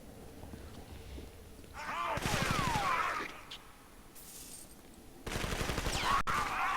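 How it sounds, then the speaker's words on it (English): Rapid dual-pistol gunfire in the video game Hellgate Global, two bursts of fast repeated shots with game effects, heard under a man's speech. "Oh man, I am rocking it with 2 pistols."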